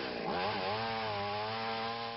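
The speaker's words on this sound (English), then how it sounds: "You couldn't get away from the sound of chainsaws in West Winfield today after a powerful storm cut a path of destruction" A chainsaw cuts up storm-damaged trees in West Winfield, a loud, close, steady engine whine that stays constant for the whole stretch with no speech.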